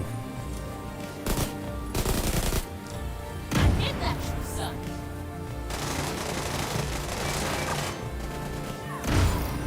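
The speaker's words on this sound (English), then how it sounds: "Got him with the grenade." A grenade blast in the video game EverQuest 2 cuts through busy combat, with sharp bursts, crashes and thuds over a constant noisy backdrop, while a player talks now and then.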